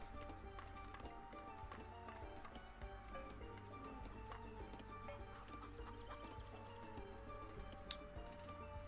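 Hoofbeats of mounted horse archers in the strategy game Age of Empires: Definitive Edition, a steady clip-clop over dense in-game battle noise and music, moderately loud with a few sharp ticks.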